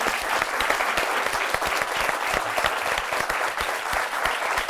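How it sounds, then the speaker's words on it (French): A theatre audience at a French-language comedy show breaks into sustained, vigorous applause, a thick even roar of clapping hands close by, with a few faint cheers inside it. "cher public, applaudissez-vous vous-même"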